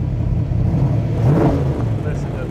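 A replica sports car engine, built on a Factory 5 Type 3 chassis, revs up close and loud, its mid-pitched roar swelling and then easing off while people talk over it.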